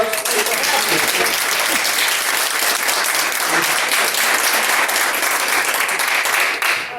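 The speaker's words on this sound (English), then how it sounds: "So, another round of applause." Sustained applause from a crowd, loud and dense, clapping steadily for several seconds with voices mixed in.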